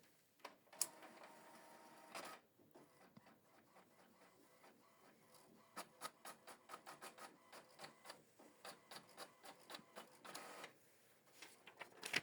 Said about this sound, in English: So it's printing test page.